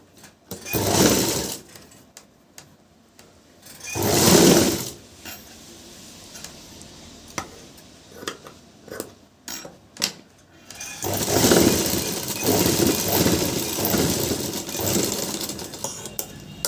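A sewing machine stitches blouse fabric near the front piece, running in short close bursts separated by pauses, then a longer sustained run toward the end.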